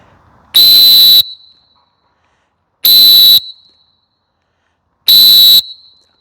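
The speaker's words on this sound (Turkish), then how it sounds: "Bu mikro modeli gerçekten de güzel, incecik, çok kibar bir düdük." Thin micro model coach's whistle blown three times in steady, evenly spaced bursts of about half a second, each a loud, piercing, pure tone with a short ringing tail and silence between blasts.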